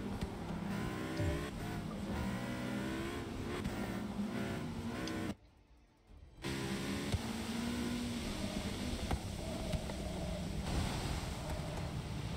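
Race car driving in the video game Forza Motorsport 6, a continuous engine whine with rising and falling gear sweeps, cut by a brief near-silent gap midway before the engine sound resumes.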